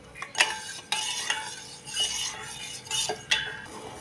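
A spoon stirs a sugar mixture boiling hard in a pan over a high gas flame, scraping and clinking against the metal in repeated strokes with brief pauses, close and moderately loud, with no voices.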